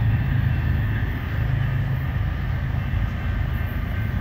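A northbound train draws near on the rail line through Norman, a steady heavy low rumble with a faint high hiss sustained throughout, loud and close with no voices.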